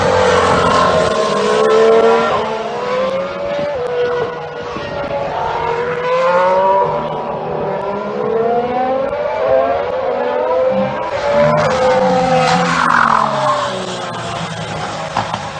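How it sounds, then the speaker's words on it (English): A 2018 Ferrari Formula 1 car screams through a lap at Barcelona pre-season testing, its high-pitched engine note rising and falling loudly and steadily through gear changes for the whole stretch. "Here's the Ferrari."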